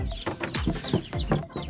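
A young chick clucking, a run of quick, sharp, close calls repeated in an uneven rhythm over a brief stretch.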